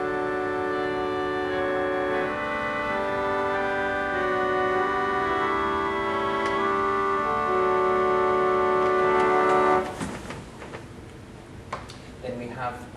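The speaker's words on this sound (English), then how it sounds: "we have something called a salational, which is a string rank, which adds a nice bit of depth" A Wurlitzer theatre organ's salicional string rank sounds steady, sustained chords with a thin, bright string-like tone for about ten seconds before the notes release and fade, after which faint voices and movement follow.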